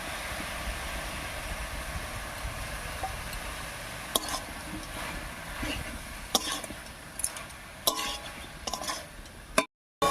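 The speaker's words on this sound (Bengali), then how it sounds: "এবারে সবজির সঙ্গে বেশ কিছুক্ষণ মশলাটাকেও রান্না করে নেব" A spoon scrapes and knocks in a pot while a vegetarian mixed-vegetable curry is stirred with ground spice paste, soft steady scraping broken by a few sharper clicks near the end.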